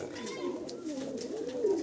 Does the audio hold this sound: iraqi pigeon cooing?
yes